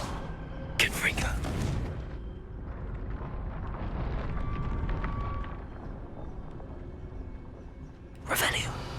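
Confringo fire spell in the video game Hogwarts Legacy, two sharp blasts with rumbling tails, one near the start and another near the end, over ongoing game ambience and character speech.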